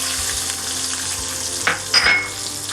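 Shallots frying in hot oil for a coconut chutney tempering, a steady close sizzle with a couple of brief louder crackles and a light metallic clink near the end.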